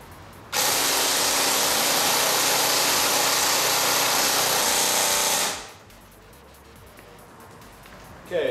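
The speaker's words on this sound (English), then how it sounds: "Let's see how much faster the 45000 actually is. So, got my airsoft gun with the battery hanging out," An airsoft gun fitted with a Tienly 45000 motor fires one sustained full-auto burst of about five seconds, a loud, dense, buzzing mechanical whir that cuts off abruptly, leaving a quiet tail.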